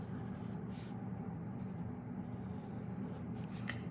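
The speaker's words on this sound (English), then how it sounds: "So let's just draw a vase here." A crayon drawing a vase on paper: a soft, continuous waxy scratching drags along steadily, faint and close, with a few slightly brighter strokes and no voices.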